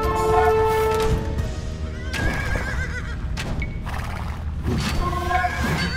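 A horse neighs with a sharp whinny in the Age of Empires II Definitive Edition video game, with further whinnies and a busy game soundscape of effects and hoof-like clatter around it, and no talking over it.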